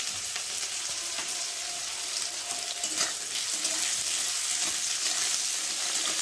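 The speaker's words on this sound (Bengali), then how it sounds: "কেটে রাখা সরু সরু করে আলুগুলোকে দিয়ে ভালো করে ভেজে নেব। দেবো কটা কাঁচা লঙ্কা" Thin-sliced potatoes and green chillies fry in a pan with a loud, dense, steady sizzle, broken by occasional scraping and stirring, close up and with no voices.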